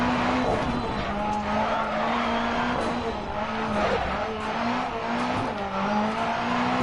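A rally car in the DiRT Rally racing game during an online rallycross race, its engine droning steadily and loud as tires skid and scrabble through a near spin-out, with no voices.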